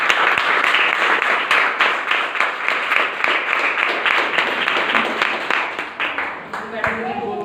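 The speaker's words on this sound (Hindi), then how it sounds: "एक बार जोरदार ताली के लिए।" An audience claps loudly and steadily at a talk, a dense, even wash of applause that continues for several seconds before tapering off at the end.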